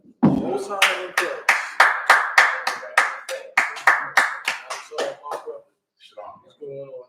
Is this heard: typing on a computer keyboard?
no